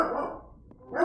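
A pet dog indoors gives a couple of quick, fairly loud barks close by, a short pause between them.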